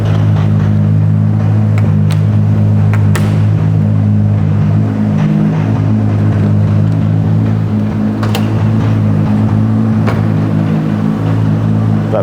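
A deep, steady idle from a 600 hp Toyota Supra engine, heard with the hood open, rumbles continuously with low harmonic tones, close and loud, with a few faint clicks over it.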